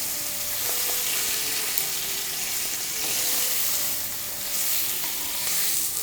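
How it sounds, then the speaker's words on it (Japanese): Steak shallow-fries in hot oil pooled at one side of a tilted frying pan, a loud, dense, steady sizzle and crackle heard up close with no talking. "こうすると油が温度が高いので、ここで揚げ焼き状態を作ることができます。"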